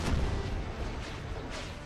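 Howitzer batteries fire in a Spanish Empire versus Mexico strategy battle game, a heavy boom followed by rolling, rumbling blasts that carry on steadily through the short stretch.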